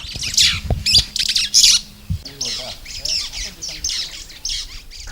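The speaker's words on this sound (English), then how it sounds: "she is awakened by the chirping of the birds" Birds squawk and chirp loudly in a morning chorus in Kadokoi community, rapid close calls overlapping in bursts, with a brief low thump near the middle.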